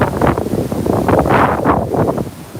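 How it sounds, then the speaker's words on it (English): Gusting wind blows over an open riverside at a lock on a river, a steady, loud rushing roar buffeting the microphone with swelling surges throughout, no voices present. "see the wind there?"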